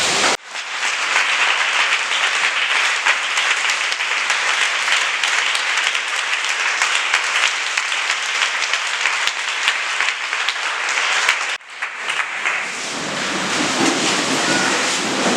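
Church congregation applauding, a dense and loud sustained clapping that runs on without a break, dips briefly near the end and then carries on.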